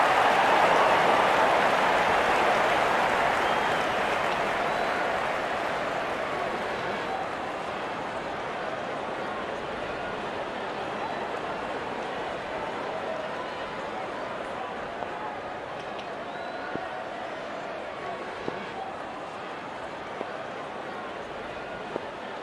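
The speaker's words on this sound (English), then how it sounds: "There's such a wonderful crowd in to watch their favorite players." A stadium crowd in the cricket video game Real Cricket 26 sends up a broad, steady roar of applause and cheering that starts loud and slowly eases to a softer wash, with commentary talking over it.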